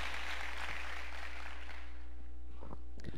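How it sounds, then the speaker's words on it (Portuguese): A church congregation applauds the Lord during a sermon, a fairly loud clapping swell that fades out over a constant low electrical hum, with a few scattered thumps at the end. "Dê um aplauso ao Senhor se você crê nessa palavra."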